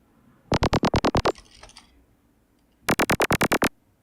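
A dark, buzzy FM synth lead for psytrance plays two quick runs of eight staccato notes, separated by a soft, shimmering tail and a brief quiet gap.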